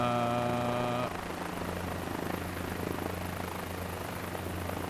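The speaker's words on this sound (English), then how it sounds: "see how little pressure on the controls you need to control a helicopter." A helicopter holds a hover in Microsoft Flight Simulator 2024: a steady, loud rotor and turbine drone with a sustained whine that shifts in tone about a second in, then continues evenly.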